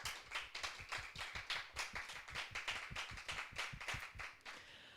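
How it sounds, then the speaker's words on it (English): A small audience at a school harvest festival claps for the staff, a soft, steady patter of many hands heard from a distance. "A clap for all the staff in general."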